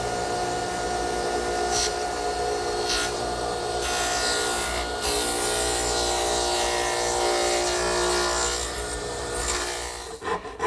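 Dovetail saw notching the bottom of a wooden tenon, a steady close rasping rub of fine teeth through wood running continuously and fairly loud, with a brief scrape near the end.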